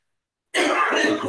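A single person coughs and clears their throat at a panel discussion, a short harsh burst that starts abruptly after silence and stays close and loud until the end.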